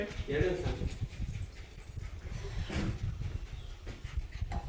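A large dog pants heavily and lets out thin whimpers, close by, while people's voices carry on in the background.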